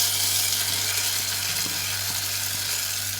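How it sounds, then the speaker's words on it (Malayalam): Hot garlic tempering pours into a potato curry and sets off a loud, steady, close sizzle that fills the whole moment without pause. "നമുക്ക് ഇനിയിപ്പോൾ നമ്മളെ കുണ്ടുകിഴങ്ങ് കറിയാക്കിയത്തേക്ക് ഇത് ഒഴിച്ചു കൊടുക്കാം"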